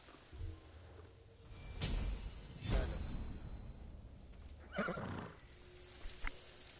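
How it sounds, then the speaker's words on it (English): Kage, a horse in the Ghost of Tsushima video game, gives several loud whinnies and snorts in bursts, with some hoof clops between them and a faint music bed underneath. "You're a good horse, Kage."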